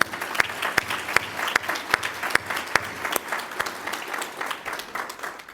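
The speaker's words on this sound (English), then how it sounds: "And so another round of applause for the folks from Goodwill." A modest audience at an International Women's Day event claps for community partners, the applause fairly thin, with distinct individual hand claps standing out rhythmically above a soft, steady wash.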